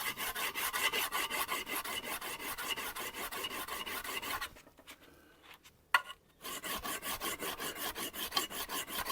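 Chisel being sharpened on a 1000-grit sharpening stone, with rhythmic back-and-forth rasping strokes close up, a brief pause midway, then the steady scraping resumes.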